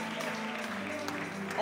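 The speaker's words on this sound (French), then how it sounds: "Merci, on va applaudir très fort." Applause from an audience, fairly soft and steady, with a hum and a voice faintly underneath.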